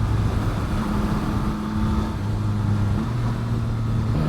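A Yamaha MT09 motorcycle engine drones steadily at a constant pitch while riding, with rushing wind noise over the microphone throughout and no talking.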